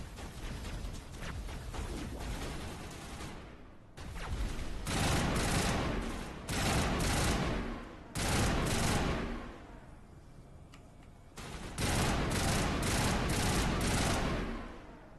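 Sustained automatic gunfire in the video game Mass Effect, several long loud bursts separated by brief pauses, dense and close, with no talking.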